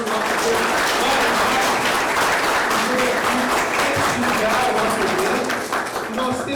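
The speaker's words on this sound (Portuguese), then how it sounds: "Vou dar uma salva de palmas para o nosso Mário" A crowd at an anniversary celebration applauds loudly and continuously, dense clapping filling the room while a voice speaks over it through the middle.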